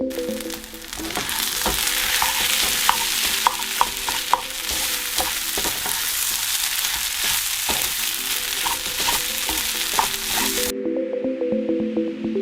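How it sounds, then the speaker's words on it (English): An egg sizzles steadily in a hot pan atop kimchi fried rice, a close, continuous crackling fry with small pops and occasional stirring scrapes, no voices over it. "I'm going to put an egg in the middle and let it cook."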